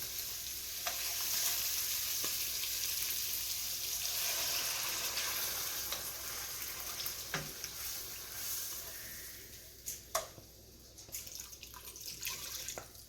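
Mushrooms stirred in a pan as liquid is poured in for a creamy ravioli sauce: a broad watery hiss and sizzle that gradually thins, broken by scattered clicks and scrapes of a utensil, louder toward the end.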